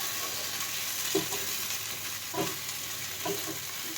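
Kharkol leaf paste frying in a pan gives a continuous soft sizzle, with a few spatula scrapes against the pan at intervals, heard up close without any talk.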